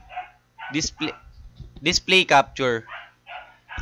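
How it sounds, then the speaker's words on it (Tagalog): A dog barks and yips somewhere in a home while a person talks over it, the barks mixed into and partly buried under the steady talking. "Ingay talaga ng aso."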